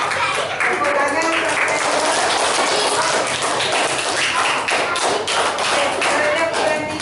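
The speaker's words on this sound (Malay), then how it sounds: "Tepuk tangan." Classroom of pupils clapping hands together, a dense, continuous patter of many claps filling the room, close and steady throughout.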